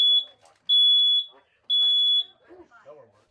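Three loud, high-pitched electronic beeps from a smoke alarm, handed out at a Red Cross smoke alarm giveaway, sounding in short bursts with a pause after the first, with faint talk between and after.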